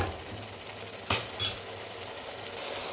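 A spoon scrapes and stirs onion and ginger paste in a pan, with soft sizzling throughout and a couple of brief metallic clinks standing out near the middle.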